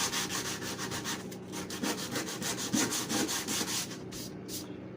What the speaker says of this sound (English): As I am sanding, you can see there's sand dust